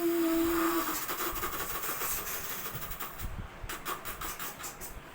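A mimicry performer imitates a train with the voice, producing a hissing, steam-like rush that breaks into rhythmic chugging bursts, fairly close and with no talk.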